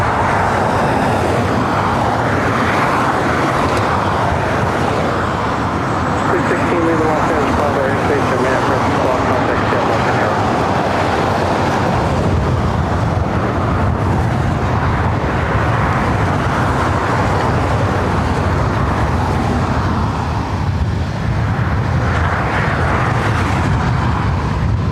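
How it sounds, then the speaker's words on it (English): A Condor Airbus A330neo in blue striped livery roars at LAX airport, a loud, broad, continuous jet rumble that swells and fades slightly over time, with voices faintly under it. "up next, Condor A330neo in the blue striped livery"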